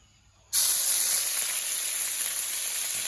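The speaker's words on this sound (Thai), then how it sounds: "แกงละลายน้ำครับ เวลาโดนน้ำมันที่ร้อนๆครับก็จะกระเด็นหน่อยครับ" Red curry paste hits hot oil with a sudden loud sizzle after a quiet moment, then keeps frying and spattering steadily with no voices.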